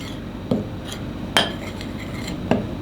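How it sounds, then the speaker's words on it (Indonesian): Flour and salt being stirred in a bowl with a utensil: a steady soft scraping bed, broken by three sharp clinks of metal against the bowl. "Ini ada terigu, kita kasih dengan sedikit garam. Kita aduk rata."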